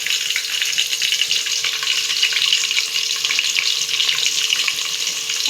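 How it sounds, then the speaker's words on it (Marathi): Sliced onions fry in hot oil in a pan, giving a steady, close, bright sizzle with crackling and spitting throughout and no talking. "कांदा गोल्डन ब्राऊन होईपर्यंत तळून घेऊया तेलात।"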